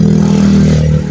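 A motorcycle engine that had just stalled runs again, a loud, close, steady drone holding for the whole moment without a break.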